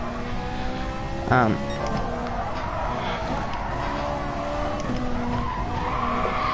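Race car in the GT Sport video game braking hard, tires squealing and skidding in a sharp burst over a steady loud engine roar, with a voice talking over the game audio.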